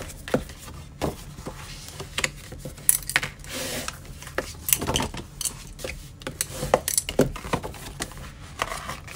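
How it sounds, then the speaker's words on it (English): Cardstock is folded along score lines and burnished with a bone folder, giving close, crisp creasing snaps and repeated rubbing scrapes with small taps and clatters throughout. "I'm going to fold on those score lines and burnish with my bone folder."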